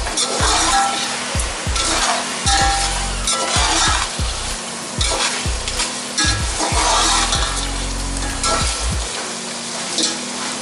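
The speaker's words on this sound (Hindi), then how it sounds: "उसके बाद मैं इसको अच्छी तरह इसमें मसाले में फ्राई करूँगी।" Half a kilo of goat mutton frying in spices for an Arabian kabsa, loud close sizzling broken by repeated rhythmic stirring scrapes and clanks of a spoon against the pot, with no one speaking.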